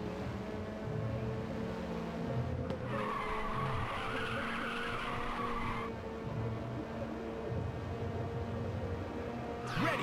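A car drifts in the racing video game Ridge Racer 2, with a sustained tire skid and squeal rising over steady engine drone for a few seconds mid-clip before the engine runs on alone.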